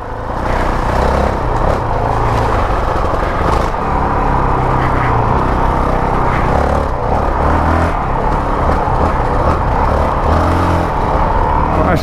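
A Honda CRF450L with a power-up kit rides across sand, its engine a loud, continuous close-up drone with shifting revs and wind rush throughout.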